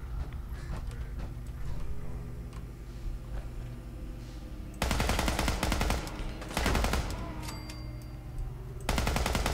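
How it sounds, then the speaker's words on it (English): Gunfire from a weapon in the video game Fallout 4 comes in rapid bursts of automatic fire, loud and close over a steady game soundscape of rumble and ambience, with pauses between the volleys. "Trying to keep my shots down as best as possible so that I don't expend extra ammunition."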